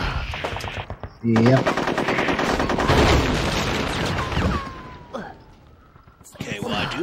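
Loud, rapid machine-gun fire and grenade blasts in a World War II video game modeled on a beach assault, with sustained bursts and booms up close while someone talks over the combat.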